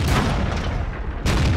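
Tank guns boom in World of Tanks, heavy cannon blasts sounding twice with a decaying rumble between them, loud and close.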